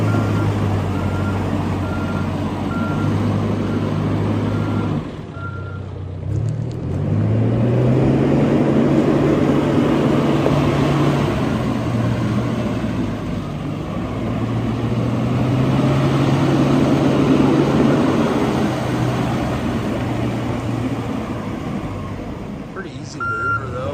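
A 2014 John Deere 410K two-wheel-drive backhoe loader runs steadily at close range, its diesel engine holding a low, continuous drone that dips briefly and then rises again, with a reversing beep in the background and people talking over it.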